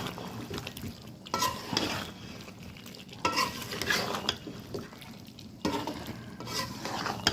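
Onions and potatoes are stirred in a frying pot for a beef curry, a spatula scraping in repeated bursts over a steady close sizzle.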